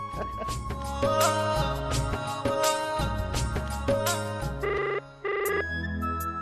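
A telephone ringtone plays loudly and steadily, a melodic electronic tune with repeating notes, no voices over it.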